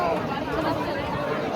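Thick crowd noise outside the main temple at Tirupati, overlapping chatter from many people close by, constant and busy for the whole moment.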